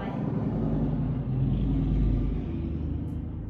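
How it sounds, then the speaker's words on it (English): Loud road traffic passing close by, a heavy low rumble of cars swelling and fading with a deep engine drone throughout. "Why are cars loud?"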